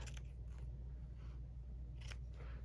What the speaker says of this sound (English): Let's get this with some scissors.